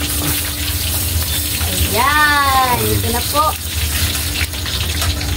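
Water is poured into a pot while cooking macaroni, a rushing, gushing pour lasting a couple of seconds under a voice talking nearby.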